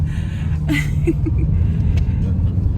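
Car interior in early morning traffic around seven o'clock, with a steady low engine and road rumble throughout and a few faint brief higher noises over it.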